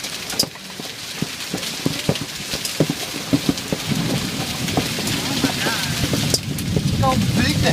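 Hail pelts down during a storm in Boston, a dense patter of hard ice hitting surfaces with sharp, louder individual impacts scattered throughout, and people talking faintly beneath.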